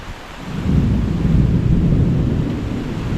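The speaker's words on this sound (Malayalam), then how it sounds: "അടിപൊളി മഴ" Heavy Kerala monsoon rain roars steadily with a deep, rumbling thunder swelling underneath, loud and continuous with no voices.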